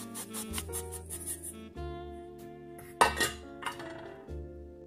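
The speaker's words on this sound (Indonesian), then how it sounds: "Kita kocok mentega dengan gula pasir." Utensils clink and scrape against a bowl in a few quiet bursts as butter and sugar are beaten, with soft tonal music playing in the background.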